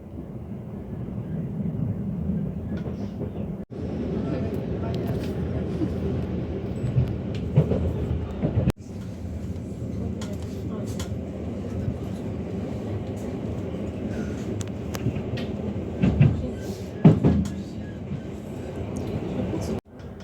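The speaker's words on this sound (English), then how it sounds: "I had finally got onto the second train" Steady rumbling of a train rolling along the tracks near Wrocław, Poland, with occasional clanks and rattles from the carriage, heard from inside over twenty seconds.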